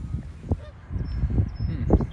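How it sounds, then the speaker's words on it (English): Several loud Canada goose honks ring out close by at a wetland in an irregular series, harsh and nasal, with faint background noise between calls. "Canada goose."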